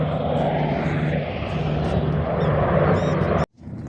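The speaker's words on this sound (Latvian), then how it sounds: "Gustav, pasties, cik tuvu helikopteri." A loud, steady engine roar with a throbbing rotor drone from helicopters flying close overhead in Cyprus dominates, close and continuous, before cutting off abruptly near the end.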